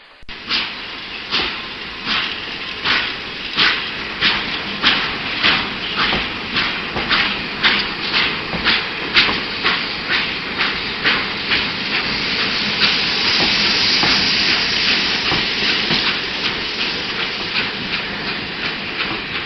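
A coal-burning steam train chuffs in a loud, steady rhythm for about twelve seconds, then gives way to a continuous, strong hiss of escaping steam.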